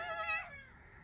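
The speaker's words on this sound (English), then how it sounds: "Look at the goats." A farm goat gives one short, high, wavering bleat that fades quickly into quiet background.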